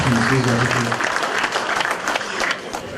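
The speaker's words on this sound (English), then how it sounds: "Please, a round of applause for the Honorable Obiano." An audience at a Houston reception claps steadily for about three seconds, a dense crowd applause that fades slightly toward the end while a voice speaks over the opening.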